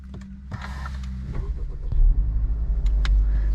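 A 2023 Honda Civic Type R starts for the first time: a few clicks and a creak from the cabin, then the engine cranks and catches into a loud, low rumbling idle that holds steady.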